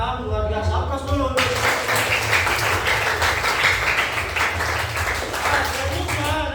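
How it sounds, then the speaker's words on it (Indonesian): Students in a classroom break into applause for the presenting groups, a dense, steady patter of many hands clapping that starts suddenly after a brief moment of talk and continues evenly to the end. "Aplaus dulu."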